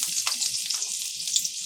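Garlic dropped into about a quarter cup of hot oil in a wok for kung pao shrimp, giving a steady close hiss of sizzling with faint stirring scrapes.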